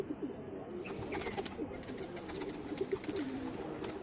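Pigeons on a rooftop cooing softly and repeatedly, a low murmuring coo with a few faint wing sounds, quiet and close with no talk.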